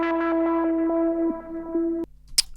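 A squelchy, resonant synth lead from Logic's ES2 plays a short sliding melodic phrase alone, ending with a brief sharp noise burst.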